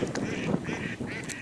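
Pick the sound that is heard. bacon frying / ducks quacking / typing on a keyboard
ducks quacking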